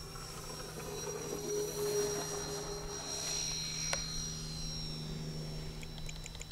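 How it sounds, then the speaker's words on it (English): A FlightLine OV-10 model airplane flies on its maiden flight on a breezy day over a runway, its motors giving a steady, moderately loud electric whine and hum that rises and fades slightly as it passes. "here we go on the maiden flight of the brand new OV-10"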